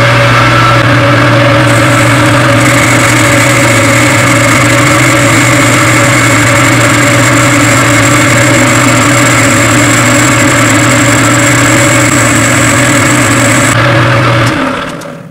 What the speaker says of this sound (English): I got to actually cut a 1-inch diameter into this existing pulley here.